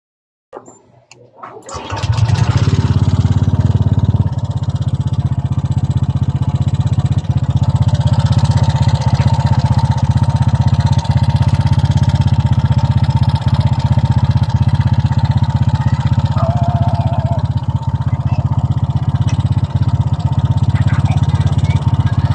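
A Honda Click 125 scooter engine fitted with Block 56 cams and valve springs starts and then idles steadily at a loud, close, constant drone, running unchanged for the rest of the clip.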